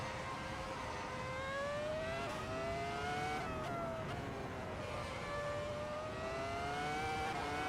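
A 2004 Formula One car in the Assetto Corsa racing game, driven around Nuremberg, screams at high revs, its engine pitch rising and dropping through gear changes in a continuous loud whine.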